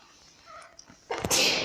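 A single sharp sneeze bursts out loudly after a quiet stretch, breathy and explosive, trailing off near the end.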